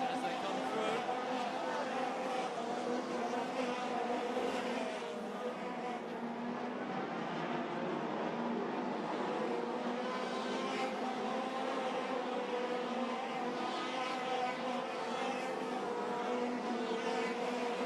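Race cars in an online oval racing video game at Arena Essex roar continuously with layered engine whine, several cars sweeping past in steady succession while a commentator talks over the engines throughout.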